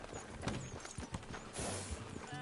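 Horse hooves clop at a steady walking pace in Red Dead Redemption 2, close and fairly loud, over a low ambient background, with no talking.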